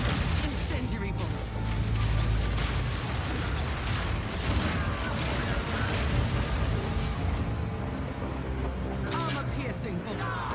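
Crossbow bolts firing in Path of Exile 2, permafrost, armor-piercing and incendiary types, as a dense, continuous barrage of bursts, pops and mechanical clatter over booming game noise, loud throughout.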